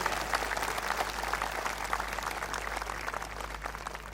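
Devotees at a satsang in Ellenabad applaud the saints, a dense, even patter of many hands clapping steadily over a low hum, moderately distant and without speech.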